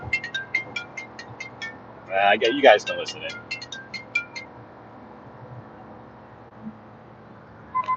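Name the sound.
phone ringing while placing a phone call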